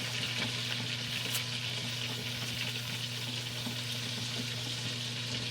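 Food fries in a stick of melted butter with Goya vegetable seasoning, a steady, close sizzle and crackle running without a break and with a low hum beneath it.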